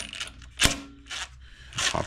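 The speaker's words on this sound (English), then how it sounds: "screwing in my flywheel remover tool, and then turning this bolt in the center" A flywheel remover tool being screwed in and its centre bolt turned on a Serveta Jet 200 scooter under rebuild: a few close metallic clicks and ratchety scrapes, one sharp clank near the middle.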